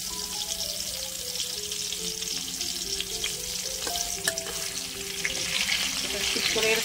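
Stuffed bitter gourd (karela) sizzles steadily in a hot pan with occasional stirring clicks and scrapes as it fries. Faint background music plays throughout.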